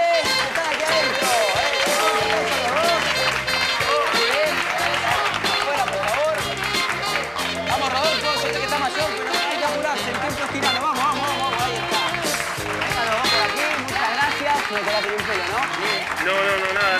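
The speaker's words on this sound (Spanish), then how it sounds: "un fuerte aplauso para nuestros dos participantes que están aquí adentro" A studio audience on a television show gives a strong round of applause for two participants, sustained clapping mixed with music and voices throughout.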